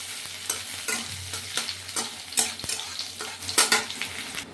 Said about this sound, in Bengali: তেল দিয়া দিলাম, লগে একটু কালি জিরা, সামান্য পিঁয়াজ দিয়া একটুখানি লাড়াছাড়া দিয়া পুরটা রেডি করে লই।